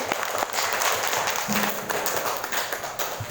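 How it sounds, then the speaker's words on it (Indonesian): Classroom applause for a group of female student representatives, a moderate burst of students clapping together, slightly uneven, with faint voices behind it. "tepuk tangan untuk perwakilan dari kelompok putri"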